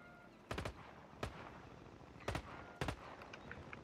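Bursts of gunfire in the Call of Duty video game, four short sharp volleys spread over a few seconds with quiet gaps, fairly faint overall.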